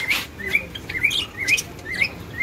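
Cockatiel chirps, a run of short bright calls repeating roughly every half second, close and clear with no voices.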